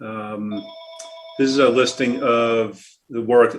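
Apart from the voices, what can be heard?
telephone ringing in the background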